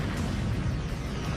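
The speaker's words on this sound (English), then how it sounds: "Finally, they explode in this incredible blast." A deep, sustained roaring rumble from a massive railway tanker explosion, loud and steady throughout with heavy low-end energy and no voices.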